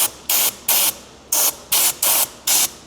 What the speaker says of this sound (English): Basically just sprays in a fan motion, fan pattern on the end of that tip.